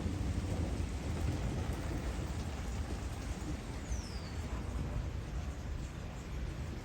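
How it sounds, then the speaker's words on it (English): Steady rain pours over low rolling thunder, a dense continuous wash of drops with a deep rumble underneath throughout. "It is raining."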